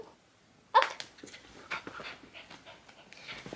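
Dog panting steadily close by, with a sharp whimpering yelp near the start followed by quick rhythmic breaths and soft whines, fairly quiet and indoors, with no talking.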